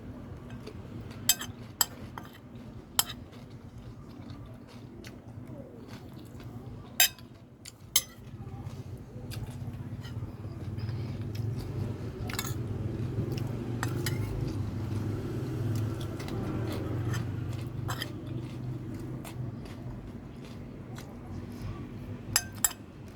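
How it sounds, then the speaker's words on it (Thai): Stir-frying with lard in a pan: a metal spatula scrapes and clinks against the pan in sharp scattered taps over a low sizzling rumble that swells midway. "ผัดจนขึ้นมันขนาดเนี้ย"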